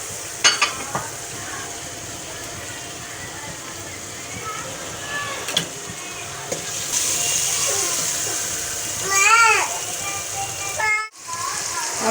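Masala and chicken gravy fry and are stirred in a pan with a steady sizzle, scraping strokes and a few clinks of the spoon, under a voice talking throughout.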